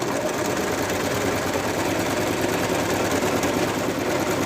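A sewing machine stitches a plush toy, running in a fast, steady, even mechanical whir at close range, with no pauses and no talking.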